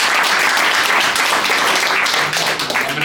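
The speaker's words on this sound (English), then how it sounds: "Big round of applause, ladies and gents." Audience at a Golden Gloves boxing press conference held at a grill house applauds loudly and steadily for the Boxing South Africa chairperson, dense clapping throughout.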